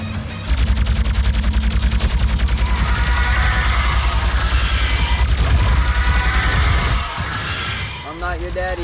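Rapid, continuous gunfire from the classic Doom shooter fills nearly nine seconds at close range, a dense mechanical barrage with a brief dip near the end, while a voice is faintly present beneath.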